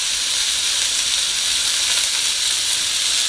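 Keto dinner frying in a hot pan on a stovetop, a steady loud sizzle and hiss that holds even and unbroken throughout, with no voices.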